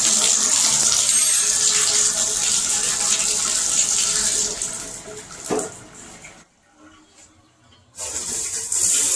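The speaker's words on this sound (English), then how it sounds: "Turn the water on." Water running from a newly fitted shower in an IKEA bathroom, a loud steady hiss that cuts out briefly before gushing back on.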